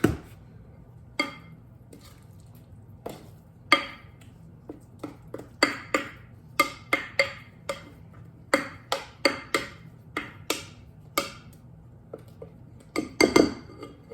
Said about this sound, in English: we're going to take a spoon and kind of mix it together a little bit, like this